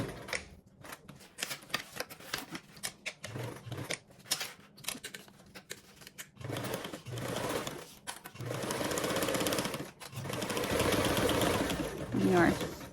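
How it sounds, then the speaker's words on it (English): A sewing machine stitches along the top and two shorter edges of a lined fabric panel in several bursts, short and stop-start at first, then longer runs near the end. "You're stitching along the top and 2 shorter edges."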